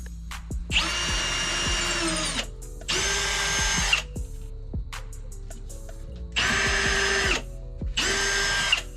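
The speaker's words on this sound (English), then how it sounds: "So let me drill these out." A power drill whines in four bursts of one to two seconds each, drilling holes for eye hooks in a chicken coop perch bar, loud and close, with clicks and handling knocks between runs.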